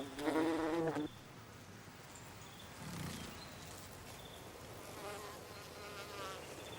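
Insects buzz faintly in an ancient English forest, a fly-like drone that swells close at the start and then drifts around more quietly over soft background ambience.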